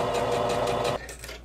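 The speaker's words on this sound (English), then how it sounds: "We want to make sure we go back to a zigzag stitch." Sewing machine running a zigzag stitch through fabric for the edges of a handmade dress, a fast, even mechanical whir close to the microphone that stops abruptly after about a second.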